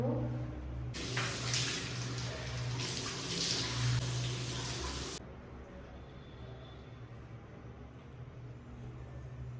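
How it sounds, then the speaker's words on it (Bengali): Water runs hard from a tap for about four seconds while a face is washed with face wash, then cuts off and leaves only a quiet room hum. "ফার্স্টে আমি ফেস ওয়াশটা দিয়ে ভালো করে ফেসটা ক্লিন করে নেব।"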